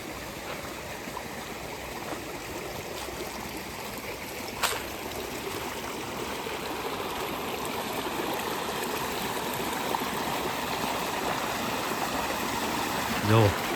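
Clean water from a well flows steadily along a channel on a farm in a Gujarat village, a continuous close rushing trickle with a few faint knocks.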